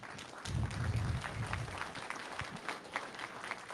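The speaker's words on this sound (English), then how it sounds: "People clapped." An audience applauds politely at a debate, a short burst of clapping that swells briefly and then thins out into scattered claps and faint murmurs.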